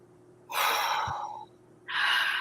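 A group of people draws a deep, audible breath together during a guided meditation, a rushing inhale of about a second followed after a short pause by the start of a second breath.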